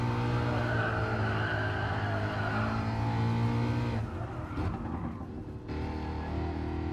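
A Group 3 Ford Mustang race car in Gran Turismo Sport drones steadily at high revs with a loud, continuous engine note, briefly dipping and shifting as it takes a corner, with no talking.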